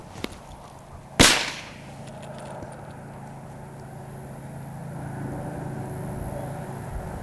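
A single sharp gunshot cracks out at a bird during a Labrador duck hunting training session, one loud close blast that fades quickly into steady outdoor wind and low rumble.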